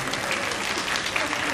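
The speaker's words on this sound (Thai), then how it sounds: "ขอเสียงปรบมือค่ะ" Audience applause at a Thai fan meeting with Ohm and Fluke, a dense steady wash of clapping from a crowd, loud and continuous with no gaps, with only faint voices mixed in beneath the clapping.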